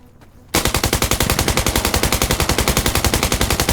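Automatic gunfire in the video game Insurgency Sandstorm, a loud, close sustained burst of rapid evenly spaced shots starting abruptly after a moment of quiet.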